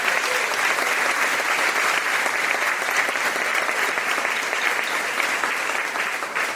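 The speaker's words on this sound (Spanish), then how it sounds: "Fuertes aplausos al Señor" Sustained applause from a church congregation honoring the Lord, a dense, steady wash of clapping that holds evenly throughout before easing slightly at the very end.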